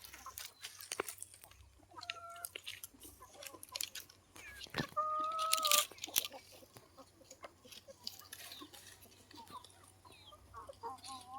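A native country chicken on a farm in Tumkur clucks back to a person calling it, with short soft clucks and calls scattered among faint rustling and other quiet farmyard sounds, fairly close.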